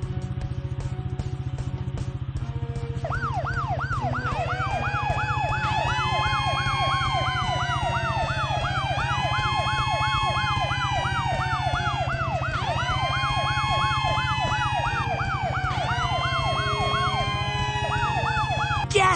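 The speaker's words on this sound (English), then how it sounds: "To turn our sirens on and off, use your mouse to click on the fire trucks." Repeated wailing fire truck sirens from a children's rescue video game rise and fall in overlapping sweeps over a steady electronic background, continuous and loud throughout.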